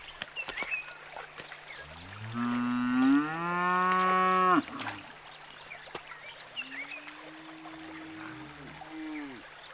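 A cow on grazing hilltops in Botswana's Tswapong Hills lets out one long, loud bellowing moo, followed by a softer, shorter moo, with faint trickling water and outdoor ambience between.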